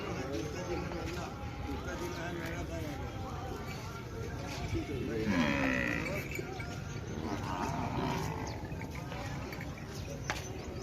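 Goats bleat now and then amid a steady outdoor murmur at a village fair in Kaleke, with people talking over the livestock noise.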